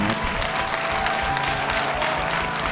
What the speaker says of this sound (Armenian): ես ուզում եմ բոլորը ձեզ բարձր ծափահարեն